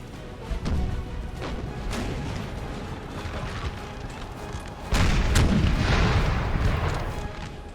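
Cannon fire from 4-pounder field guns and howitzers in a Napoleonic-era battle in the video game Napoleon: Total War, with repeated booming shots over continuous distant battlefield rumble that grows louder and denser toward the end.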